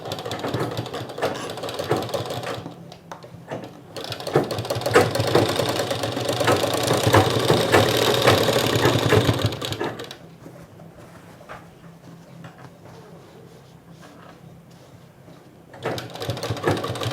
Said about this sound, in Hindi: यहाँ हम और एक सिलाई मारेगा ताकि ये फुला फुला नहीं रहेगा।